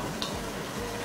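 Steady sizzling of a hot pan as pomarola tomato sauce goes in, a continuous close frying hiss with no talk.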